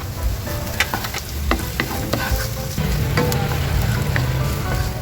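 Ginger and garlic sizzle and crackle in a hot pan for tuna sisig, a steady frying hiss with spoon-stirring clatter through the whole stretch and no talking.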